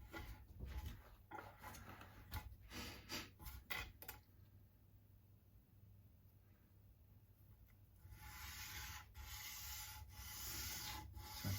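A small guitar nut base being sanded flat for a PRS Bernie Marsden SE setup, with close, rhythmic back-and-forth rubbing strokes, a short pause, then faster continuous scraping.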